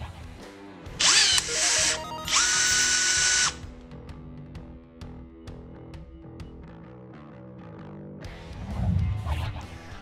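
Huck Makita BV4500 18V brushless cordless lockbolt tool runs in two loud, close, high-pitched whirring bursts, each about a second long, followed by quieter mechanical clicks and a low thump near the end.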